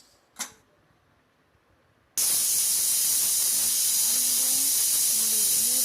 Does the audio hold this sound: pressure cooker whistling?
yes